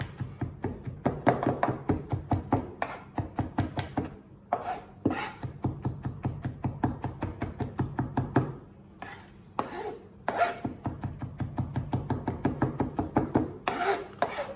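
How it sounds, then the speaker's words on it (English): Knife roughly chopping ingredients on a board for creamy bacon and mushroom fettuccine: fast, steady runs of close, crisp chops with a few short pauses between bursts, no talking. "Just give that a bit of a rough chop up"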